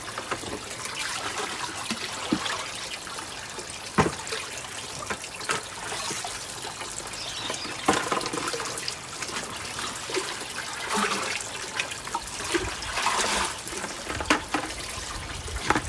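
Water steadily trickling and splashing as a garden pond is filled, a continuous close wash of flowing water with no voices.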